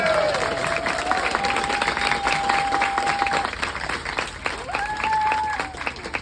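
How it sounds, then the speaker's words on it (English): An audience claps and cheers at an alligator wrestling show on the Miccosukee reservation, with dense, sustained applause and a steady, lively crowd wash filling the whole stretch. "Round of applause for Jake."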